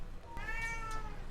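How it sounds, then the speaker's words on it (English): A single cat meows close by, one drawn-out rising and falling cry, during a live Dota 2 esports match broadcast with faint background noise underneath. "Sorry, cat sounds."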